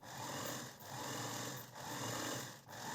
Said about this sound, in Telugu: మన క్లాత్ అనేది స్టిప్గా ఉండడం కోసం ఇంకో స్టిచ్ అనేది వేసేస్తున్నాను